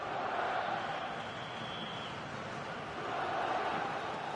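A stadium crowd in an EA Sports FC 26 football match roars as a steady, fairly faint wash of noise, swelling slightly toward the end as the home fans push the team on late in the game.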